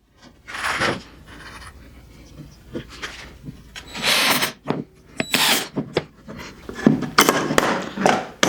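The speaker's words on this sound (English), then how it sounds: "and then we drive in a couple screws" A power drill drives a couple of screws into a wooden miter joint for a six-pointed star, in short bursts of whirring and gritty grinding separated by quieter handling noises.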